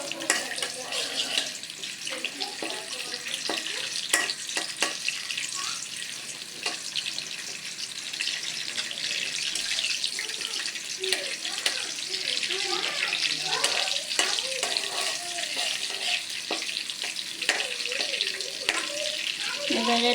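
Whole cardamom and bay leaves frying in hot oil for a village-style beef curry, a dense, continuous sizzle with crackling pops throughout.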